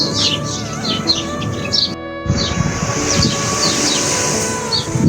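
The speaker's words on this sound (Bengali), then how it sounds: "আজকে অনেকদিন পর একটা গাছের নিচে বসার পর এই পাখির কিচিরমিচির আওয়াজ শুনতেছি" Birds chirp in a tree overhead, rapid bright calls repeating close and loud over a rumbling background hum, with a brief break before the chirping resumes.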